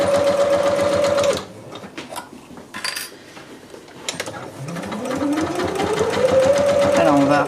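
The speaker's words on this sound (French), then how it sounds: "on coud sur toute la longueur" A sewing machine stitches along the full length of a fabric sewing-machine mat, its steady loud whirring running for over a second, then pausing amid handling noises before starting again and building back up to speed, with a voice talking over it.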